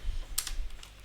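Keys on a computer keyboard tap in a quick burst of a few clicks, close and moderately loud, then fade out within about a second, with no voices.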